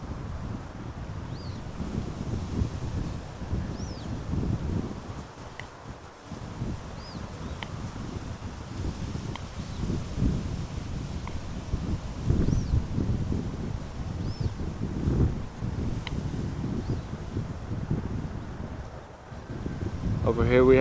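Steady wind buffets a microphone at Amsterdam Schiphol Airport, a continuous low rushing roar with gusts that swell and ease over about twenty seconds.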